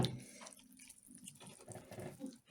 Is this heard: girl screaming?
no